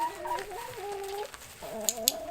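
Chickens clucking close by in a drawn-out, wavering series of calls, with a couple of sharp clicks near the end and no talking.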